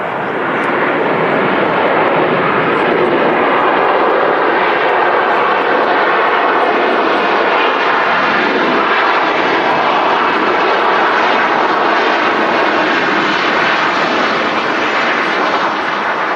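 A KLM Boeing 737 arriving from Amsterdam touches down on the runway at Manchester Airport, a loud, continuous jet roar that holds steady and fills the whole stretch, no speech over it.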